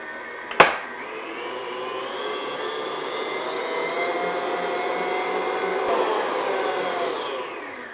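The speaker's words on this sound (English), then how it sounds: "now what I'm going to do is beat this until it's really thick and it holds stiff peaks" An electric mixer beats cream on medium-high speed into stiff peaks for a no-churn vanilla ice cream, giving a steady, close motor whir that starts with a sharp knock and holds even throughout.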